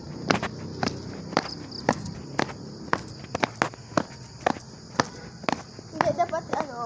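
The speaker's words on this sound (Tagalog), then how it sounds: "Rinig ang yapak ng kabigatan matapos ang exam." Heavy footsteps thud in a steady walking rhythm, about a dozen distinct close impacts on a hard floor, with faint background chatter toward the end.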